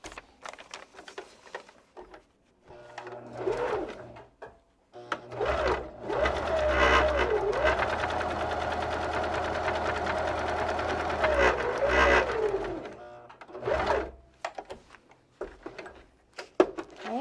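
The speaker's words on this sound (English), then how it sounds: "I need to sew along that line from this point to this point" A sewing machine stitches paper-pieced fabric along a marked line in one steady run of several seconds, with brief starts and stops before and after; quiet handling sounds fill the gaps.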